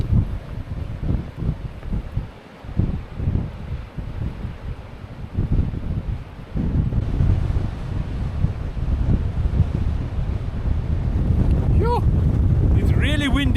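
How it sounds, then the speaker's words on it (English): Strong wind buffeting the microphone on a coastal clifftop overlooking Walker Bay, a constant loud roar and rumble with gusts building in the second half, while a person talks over it. "It's really windy."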